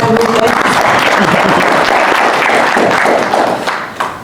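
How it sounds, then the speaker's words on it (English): Audience applause following a speaker's remark about buying property, a dense, steady burst of clapping filling the room that tapers off near the end. "That deserves a round of applause."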